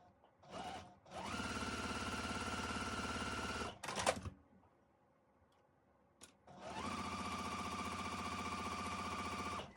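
A sewing machine stitches quilt pieces in two long, steady runs of rapid mechanical whirring, close and fairly loud, separated by a short quiet pause with faint handling clicks.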